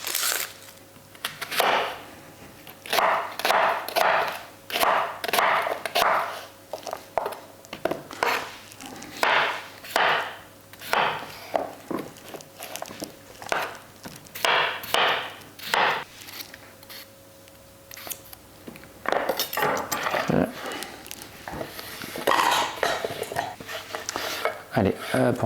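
Knife chopping potatoes and onion coarsely on a cutting board in a home kitchen while making Caldo Verde, a run of close, sharp rhythmic chops in bursts with pauses, a voice talking in between.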